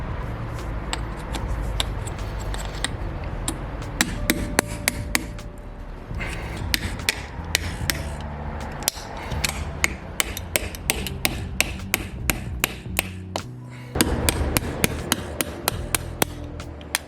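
Repeated sharp metal hammer blows drive a worn wheel bearing out of a car wheel hub, irregular strikes in bursts, close and loud over steady workshop background.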